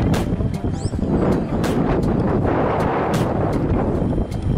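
Heavy wind buffeting the microphone at Sorocaba airport, a loud, rough low roar with gusty bursts throughout.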